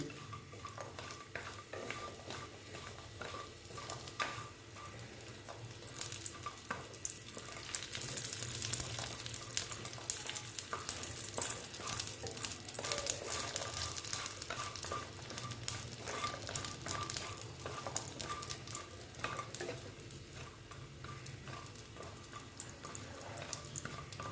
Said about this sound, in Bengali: তেলটা হয়ে গেছে গরম আমি এবার বড়ি দিয়ে দিচ্ছি বড়িগুলো ভেজে নিচ্ছি